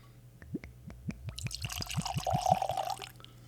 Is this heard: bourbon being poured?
yes